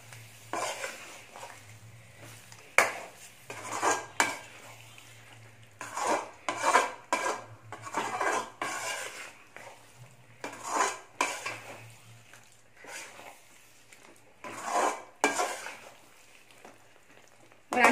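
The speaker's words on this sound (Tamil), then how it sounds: "மீடியமில் வச்சு நல்லா பெரட்டி விட்டு நல்லா வதக்கி எடுத்துக்கோங்க." Kadarangai pickle sautéed on medium heat in a pan, stirred with a metal spoon that scrapes and clanks in bursts of rhythmic strokes, close and clear over a low background hum.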